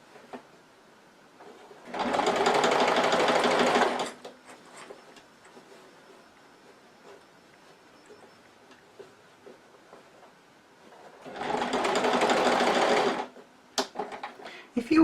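A sewing machine stitches a purse gusset in two distinct bursts of about two seconds each, fast and close, separated by a quiet pause with faint handling sounds.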